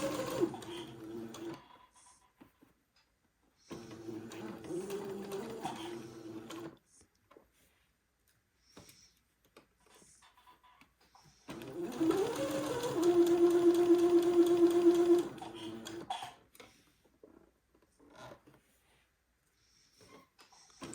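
A sewing machine stitches a seam on a doll dress in three bursts, the longest near the end, with a steady motor whir and quiet pauses between runs.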